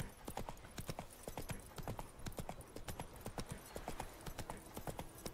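Roach the horse galloping in The Witcher 3: rapid, steady hoofbeat clip-clops keep up an even running rhythm, close and clear, with a faint ambient bed beneath.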